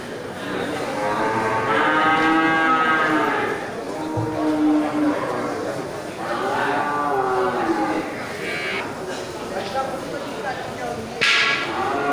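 Long, drawn-out moos from water buffalo at a livestock market, several calls in sequence with harmonic bellows, fairly close, over a noisy outdoor background.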